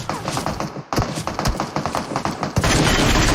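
Rapid bursts of automatic gunfire crackle in quick succession in PUBG Mobile, loud and close, with a heavier blast near the end and a faint voice underneath.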